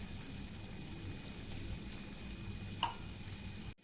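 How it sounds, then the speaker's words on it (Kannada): Paneer gravy simmers and bubbles in a pan, a steady close sizzling and soft popping bubble texture with a brief louder pop near the end. "ನೋಡಿ, ಇದೀಗ ಚೆನ್ನಾಗಿ ಮಿಕ್ಸ್ ಆಗಿ ಸ್ವಲ್ಪ ಕುದಿ ಬಂದಿದೆ"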